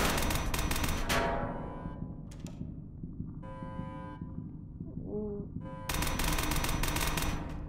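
Machine gun fire in an SCP video game, rapid automatic bursts at the start and again at the end, loud and close, with a quieter stretch of game sounds between them.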